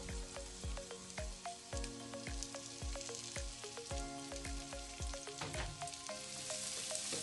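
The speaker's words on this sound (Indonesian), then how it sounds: "tumis bawang bombay hingga layu" Onions sautéing in a pan for a Chinese-style fu yung hai, a steady bright sizzle with repeated soft knocks of the utensil stirring through them, close and continuous with no voices.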